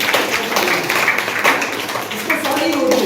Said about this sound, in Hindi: इसके लिए बहुत सारी तालियां बजाओ